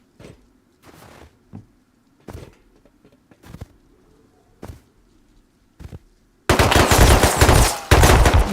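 Automated turrets in the survival game Rust firing in short, sharp bursts, first as several spaced volleys, then a loud sustained barrage near the end.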